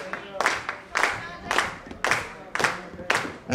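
Wrestling crowd at a PCW Animal House Rulz show claps in steady rhythmic bursts of about two per second, loud and close, with faint cheering mixed in under the beat.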